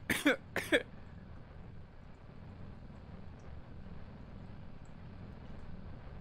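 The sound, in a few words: coughing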